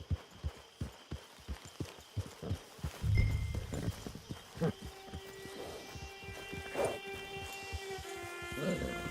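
Horse hooves clip-clop in a steady rhythm in Red Dead Online on PS4, close and clear, with a brief snort and some game sounds around them.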